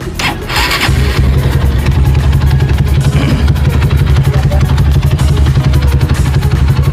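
A tuned Honda Tiger motorcycle engine with a long-duration cam cranks on the starter, catches, and then settles into a loud, close, steady idle with a fast, even pulsing throb that carries on to the end.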